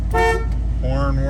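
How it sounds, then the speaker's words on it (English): The horn of a 1978 GMC Jimmy truck gives two short, loud honks close by over the idling engine. "Horn works."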